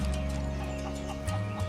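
Chicken clucking in the Final Fantasy VII Rebirth video game, set in Gongaga, a few short clucks over steady game music and a low engine-like drone.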